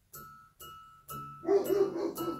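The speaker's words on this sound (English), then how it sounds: "other than the dogs barking." Dogs bark in a row of three spaced single barks, then a louder cluster of overlapping barks, somewhat distant inside a quiet room.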